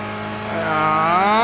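A race car engine in Gran Turismo 6 revs steadily upward, a loud buzzing whine with rising harmonics, climbing in pitch through a gear without any talking.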